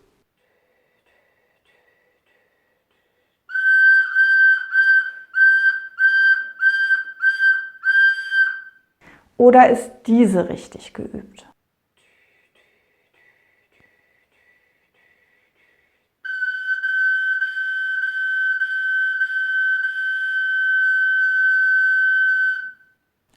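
A recorder plays a single high note, first as a run of short, separately tongued repetitions and then as one long sustained tone. A short spoken question separates the two passages.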